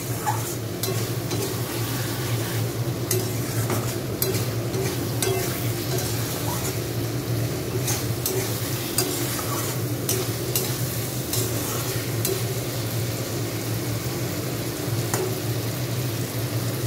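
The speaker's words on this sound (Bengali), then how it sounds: "পোস্তটা দিয়ে আমি একটু ভালো করে নাড়াচাড়া করে নেব" Mixed vegetables with poppy seeds are stirred in a hot pan, keeping up a continuous loud sizzle layered with rhythmic scraping strokes of a spoon against metal.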